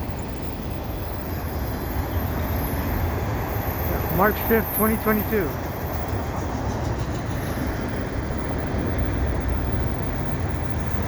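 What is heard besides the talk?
CN freight train passing under overpass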